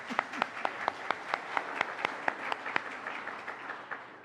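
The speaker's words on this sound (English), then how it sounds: "Oh my God, I have to clap." A small audience applauds after a spiritual gathering's moving performance, a steady patter of claps running throughout, fairly close and moderately loud, slowly thinning toward the end.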